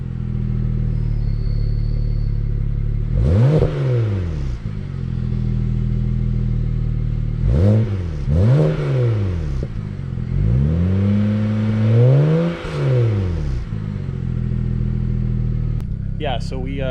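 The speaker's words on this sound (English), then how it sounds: "I'll give you guys a couple revs." A BMW 335i with a louder, modified exhaust, idling with a deep drone and then revved in several sharp blips that rise and fall, heard close by, with someone talking over it.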